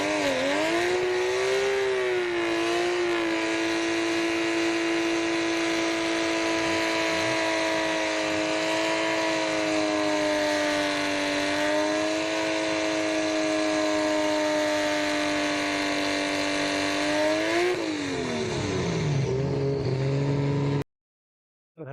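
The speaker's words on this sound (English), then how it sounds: "there you've got a JZX90 Mark II" A Toyota JZX90 Mark II drag car with a 1JZ twin-turbo engine and a Garrett T7833D turbo revs hard and steadily for about twenty seconds. The rasping note sits close and loud, dips and rises, then drops away near the end.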